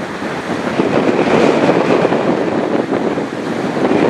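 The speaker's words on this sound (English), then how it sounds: "Wind's coming at me on the side now, which might make it a little easier." Strong wind buffets a microphone near the Great Lakes as a 728-foot bulk carrier cargo ship passes, a loud, steady broadband roar with no talk.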